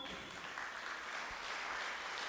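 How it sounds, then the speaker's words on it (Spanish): A church congregation applauds to welcome a guest actor, with a brief, even wash of clapping heard faintly at a distance. "Tengo un actor invitado, recibámoslo con un aplauso hoy"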